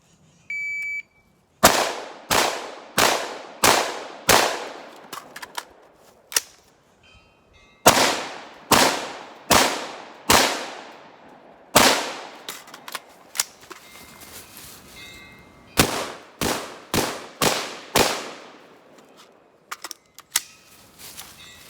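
AR-15 rifle, a TTI TR-1 build, fired in a competition training drill: about fifteen loud, sharp shots in three quick strings of five, each with a ringing decay and short pauses between the strings.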